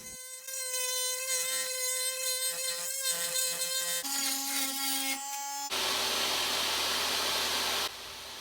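An oscillating multi-tool trims old barn wood for a keepsake box, a buzzing, tonal whine that shifts pitch as it bites, then a rougher, noisier cutting burst before it stops, close and loud.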